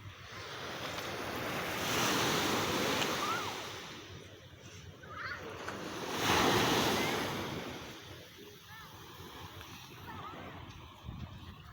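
Sea waves washing onto a beach, surging and receding in broad swells with wind noise buffeting the microphone, moderately faint and heard alone.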